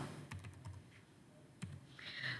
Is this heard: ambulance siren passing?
no